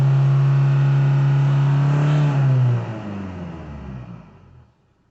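A Ford Kuga engine with an intermittent DPF pressure sensor fault revs loudly with a rising tone, then drops away and winds down to silence, heard up close with no talking.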